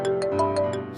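A phone rings close up with a steady electronic ringtone, five quick pulsing bursts in under a second over a sustained tone.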